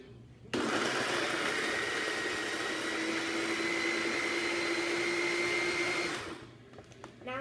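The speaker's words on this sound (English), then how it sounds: "put lid on and blend on low speed" A blender runs on low speed, blending a blueberry milk smoothie with the lid locked on. It gives a steady, loud whirring drone for about six seconds before spinning down.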